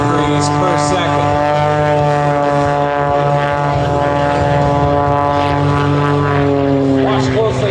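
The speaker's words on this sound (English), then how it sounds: "Tumbling the aircraft, nose for tail, tail for nose. End over end, tumbling it in show center." Loud, steady propeller drone from an aerobatic airplane tumbling end over end at an air show, with a strong harmonic engine tone that wavers through the maneuver while an announcer talks throughout.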